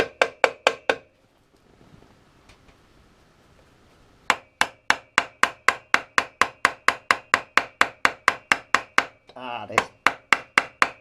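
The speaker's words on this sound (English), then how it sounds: "I've got a rubber mallet. You've just got to keep gently" Rubber mallet knocking the kickstarter end off a motorbike: a steady run of sharp, evenly spaced taps, a pause with low rumbling, then the rapid knocking resumes loud and close, with a brief voice sound near the end.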